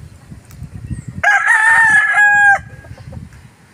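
A backyard breeder rooster lets out one loud, close crow lasting just over a second, with softer clucking and farmyard sounds before and after.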